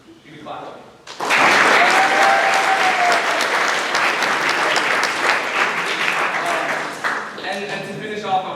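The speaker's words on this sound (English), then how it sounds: "You can clap." Loud, sustained applause from a graduation audience swells suddenly and holds steady for about six seconds before tapering off, with a voice speaking faintly at the start and end.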